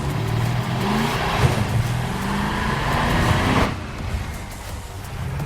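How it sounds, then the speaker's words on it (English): The Warthog vehicle from Halo: Reaction drives in-game with a loud, continuous engine roar and road rumble, then eases off slightly near the end. "the world's shortest Warthog ride"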